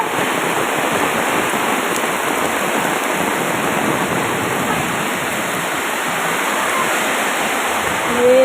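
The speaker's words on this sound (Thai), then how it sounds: "โอ้ฝนตกอย่างหนัก" Heavy rain pours down in a loud, steady, dense hiss that fills the whole clip without letting up, close and enveloping, and no voices stand out over it.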